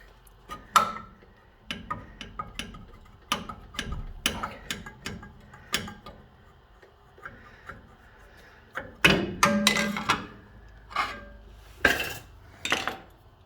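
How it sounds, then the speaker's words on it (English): A metal bolt and a homemade metal motor mount are handled and removed, with sparse clinks, taps and rattles of metal parts spaced out over several seconds, close by and fairly quiet. "So if I take this bolt out, and then I take the motor mount out,"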